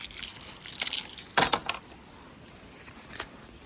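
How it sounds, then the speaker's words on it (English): Metal keys jangle as they are pulled from a pocket, a loud bright rattle of clinks in the first two seconds, then a quiet pause with one faint clink near the end. "first things first, my keys"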